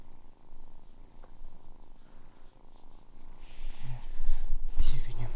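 A 1.5-month-old kitten purrs softly and steadily up close, a low continuous rumble, with some handling and rustling noise growing louder toward the end.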